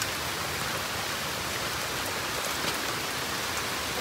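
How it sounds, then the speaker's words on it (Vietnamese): Heavy rain pouring down in a forest, a steady dense hiss of drops on foliage and ground that stays loud and constant throughout, with no voices. "Mưa rừng."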